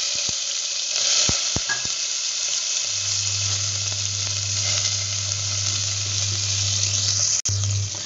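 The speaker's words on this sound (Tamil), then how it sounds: "இப்போ வெங்காயத்தை போட்டு வதக்கிக்கலாம்." Steady sizzling of onions frying in hot oil with fenugreek seeds for fish curry, continuous and close, with a few light clinks and stirring noises near the start.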